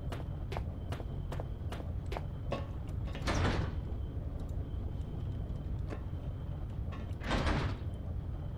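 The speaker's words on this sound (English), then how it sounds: "That should open up the door." A door opens in the horror video game Penumbra Overture, with a series of sharp mechanical clicks followed by two longer scraping slides, heard alone at moderate level.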